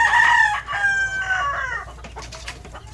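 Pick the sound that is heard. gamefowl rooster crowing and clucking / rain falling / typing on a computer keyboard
gamefowl rooster crowing and clucking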